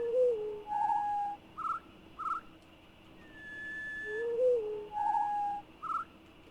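A bird in an outdoor game scene gives short, soft, tonal hooting calls in small groups with pauses between them, heard clearly over faint background ambience.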